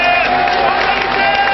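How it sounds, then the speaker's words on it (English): Large stadium crowd at the 2000 African Nations Cup Final between Nigeria and Cameroon, a loud, dense, continuous roar of cheering with no break. "And there's a cheer for Sunday Elise"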